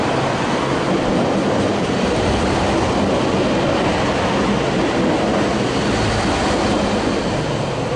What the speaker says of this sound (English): ICE arriving from Brussels.